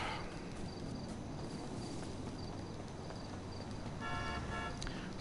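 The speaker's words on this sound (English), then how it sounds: "Stop honking your damn horn at me" Car horn honking in GTA Online, short tonal toots sounding out of a constant background of traffic and street noise, with the clearest repeated honks near the end, fairly faint overall.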